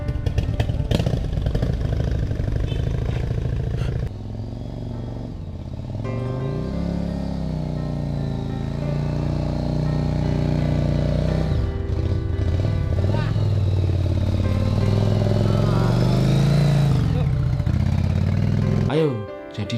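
A motorcycle engine drones loudly and continuously, its pitch rising and falling as it revs, while voices talk over it.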